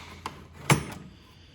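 A metal mechanic's toolbox drawer with Craftsman wrenches is pulled open, giving a faint slide followed by one sharp close clunk, quiet and near with no talk.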